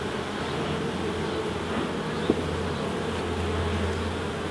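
A crowded honey bee hive hums with a dense, unbroken buzz during an inspection, close and steady, broken only by a single faint click, with no talking.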